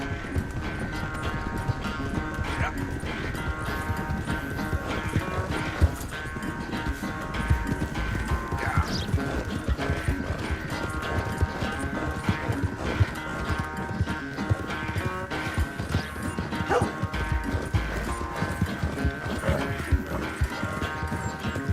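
Horse hooves clip-clop in a steady, fast rhythm during a race in the video game Red Dead Redemption 2, layered over a constant wash of game music and ambience, with an occasional faint snort.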